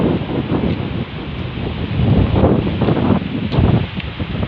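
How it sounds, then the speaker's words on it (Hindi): Strong hot wind gusts during a heat wave, blowing dust and soil, roaring and buffeting close to the microphone in steady surges. "चला नहीं जा रहा, सामने से तेज़ हवा है, गर्द है, मट्टी माहौल है"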